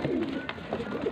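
Pigeons coo in soft, low, throaty bursts close by, several calls overlapping with a faint murmur of background noise.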